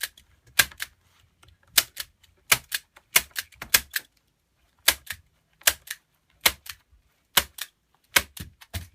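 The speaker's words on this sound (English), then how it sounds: "Staple it on." A staple gun drives staples one after another to fix mesh onto a wooden silk screen frame, about fifteen sharp, loud snaps in uneven clusters with short silent gaps between them, close by and with no talking.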